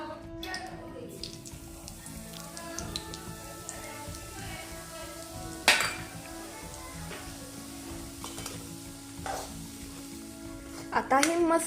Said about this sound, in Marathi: यामध्ये आपण रवा भाजून घेणार आहोत.